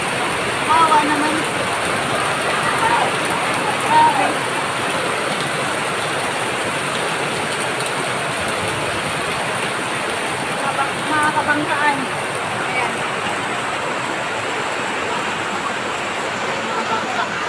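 Heavy rain pours steadily beside boats on rising water, making a dense, unbroken wash of noise, while someone speaks a few brief words over it.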